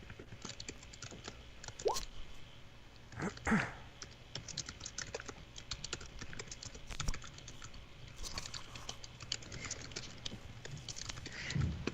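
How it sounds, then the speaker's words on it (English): Keys on a computer keyboard are tapped in quick, uneven bursts, fairly faint and close, with short pauses and a few louder clicks between runs. "I'm typing out a question to you."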